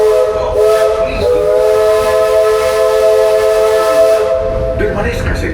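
A steam train on the Disney World Railroad sounds a loud, sustained whistle, with steady harmonic tones holding for about five seconds before cutting off, under a faint background hiss.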